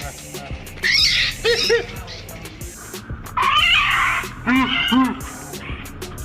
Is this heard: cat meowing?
yes